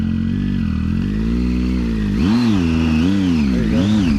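Adventure motorcycle engine on a hill, a close, loud steady idle that breaks into repeated throttle blips, revving up and down in rising and falling surges.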